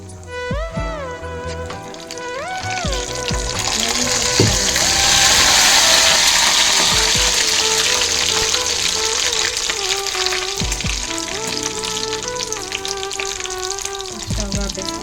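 Ghee sizzles and bubbles steadily in a hot pan after a drop of buttermilk goes in, a loud, dense frying hiss that swells midway and continues alone, with faint tonal clinks over it.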